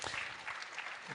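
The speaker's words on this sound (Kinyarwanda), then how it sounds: "Twabikomera amashyi" A short burst of audience applause, fairly faint, with scattered claps from a crowd at a gathering and a voice briefly over it.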